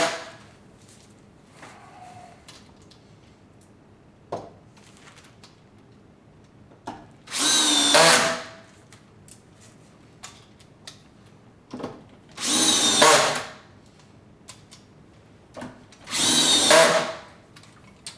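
A power drill drives screws into a door lock in three separate short bursts, each a loud, close whirring spin lasting about a second, with quiet handling clicks and taps between them.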